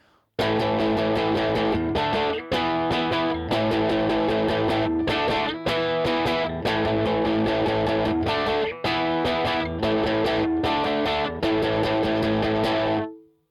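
A distorted electric guitar chugs through a riff of chunky power chords, steady and loud, with short choppy gaps between the strums and no voices.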